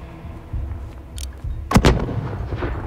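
Gunfire and heavy explosive booms in the Call of Duty Modern Warfare video game, with a few dull thumps followed by a loud double blast and a rumbling tail amid constant low battlefield noise.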